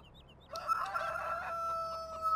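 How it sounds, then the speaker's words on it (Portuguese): Chickens in Farming Simulator 2015 cluck, and a rooster crows once, loud and close, holding its call for about a second before it fades into softer clucking. "Olha aqui, ó, muitas galinhas."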